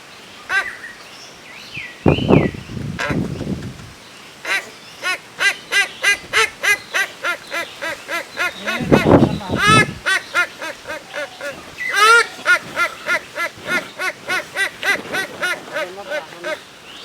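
A person's voice imitates a duck calling before laying eggs, producing rapid, rhythmic nasal quacks and honks in bursts, close and loud, with a few longer drawn-out vocal sounds between the runs.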